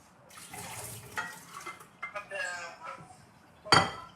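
Water is poured into a bowl for homemade pizza dough, a soft splashing trickle, then a sharp clink of the bowl at the end, all close.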